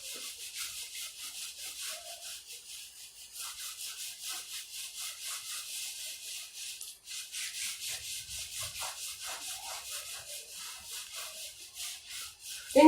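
Writing being rubbed off a classroom board, a steady run of soft, scratchy back-and-forth strokes that continues for several seconds with no talking.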